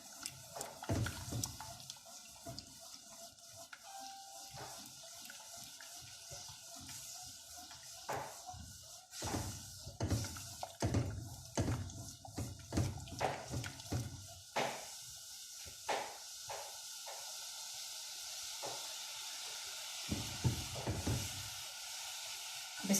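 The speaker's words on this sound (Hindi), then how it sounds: "ये देखिए ये अब इसमें बॉयल आ रहा है।" Sugar syrup bubbling in a pot while a spoon stirs it, with a low hiss of boiling and irregular clinks and scrapes from the stirring, fairly faint and close, with no voices.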